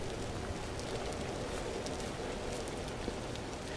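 Steady rainfall in the Vintage Story video game, a dense, even hiss of drops on surfaces that holds at moderate level throughout, with no voices.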